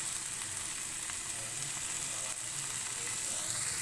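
Chicken boti sticks sizzling over a medium-low flame, a steady, close frying hiss with faint crackles throughout and no voices.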